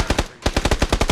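Rapid automatic gunfire from a gun in the video game PUBG, a close, loud burst of about a dozen sharp shots in quick succession with a brief pause after the first few.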